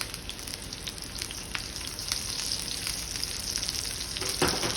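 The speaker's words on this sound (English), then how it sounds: "I'm letting it saute, and I want color" Zucchini sautés undisturbed in a smoking-hot pan, giving a dense, even sizzle with scattered crackles and pops that grows a little louder and busier near the end.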